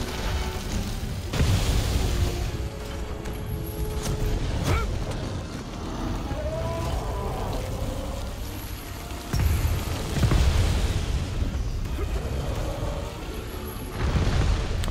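Repeated explosions while fighting a Vulcan Alpha Bazelgeuse with a great sword in a Monster Hunter game: deep booming blasts arrive in several waves, loud and rumbling, with mechanical clanks and game effects between them.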